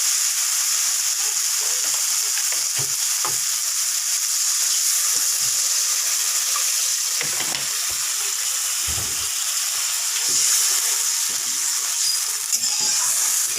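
Water splashes into a pan of frying masala for a Bengali bata fish curry, producing a loud, steady, close sizzle and hiss with a few faint clinks throughout.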